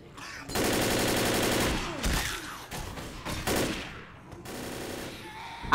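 Rapid bursts of gunfire in the zombie shooter game Left 4 Dead, sustained firing near and loud with brief gaps between volleys and a faint voice at the start.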